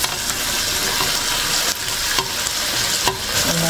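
Cabbage and broccoli stem stir-fry in a pan for noodles, a loud, dense sizzle filling the clip close up, broken by a few scraping stirs.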